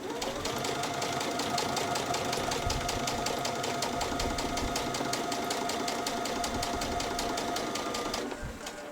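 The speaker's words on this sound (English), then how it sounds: "stitch across the top edge, and then pivot and come back down along my first row of top stitching" Topstitching on a child's dress, a sewing machine runs continuously and close with a fast, even rhythmic chatter, slowing and easing off just before the end.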